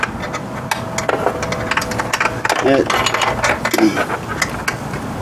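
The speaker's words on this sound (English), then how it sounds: "So you take a 10 millimeter" Ratchet wrench with a 10 millimeter socket unscrewing bolts on a scooter seat: rapid, close clicking ratchet bursts with metallic rattles, fairly loud, with brief bits of voice in between.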